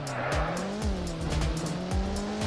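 A car in the Roblox game Car Crushers 2 climbs a volcano for a stunt jump, its engine whining at a steady pitch while repeated sharp tire screeches and impacts cut in, all under no talk.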